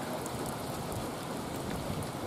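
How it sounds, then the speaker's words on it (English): Steady, dense rain from a nor'easter storm drums on the surface at a rugby match field, a continuous even wash of noise with no pauses and no voices. "we are having a nor'easter today"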